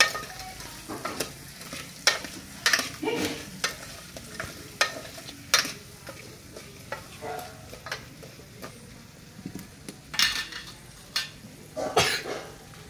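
A tempering sizzles in a pan for a village-style crab dish while a spoon stirs and scrapes in irregular bursts, with coughs scattered among the close frying noise.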